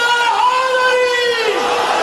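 A crowd at a religious gathering chants a devotional slogan in unison with raised hands, a sustained, steady mass of voices with tonal, drawn-out vowels that holds loudly throughout and falls away near the end.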